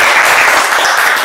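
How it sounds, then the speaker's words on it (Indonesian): Students in a university classroom applaud one another after a debate session, a brief, loud burst of dense clapping that stays steady. "Tepuk tangan untuk semua"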